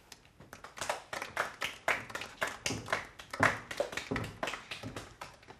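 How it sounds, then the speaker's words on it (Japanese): A small audience claps after a reading, an uneven, thin round of hand claps from a modest group, fairly close, rising and falling over several seconds with no voices. "拍手をお願いします。"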